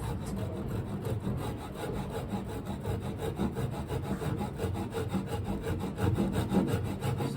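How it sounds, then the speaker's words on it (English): A hand saw cuts a halving dovetail joint in timber, with fast, even back-and-forth strokes rasping continuously up close for several seconds, no voices. "And just slowly start the saw"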